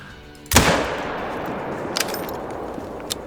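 A single rifle gunshot rings out sharply in theHunter: Call of the Wild, fired at a bear, with a long decaying echo and a couple of faint clicks afterward.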